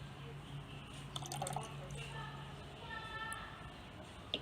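Rizon solution poured into half a liter of water for soaking soybean seeds, faint trickling and dripping with small splashes, quiet and close, while a person speaks.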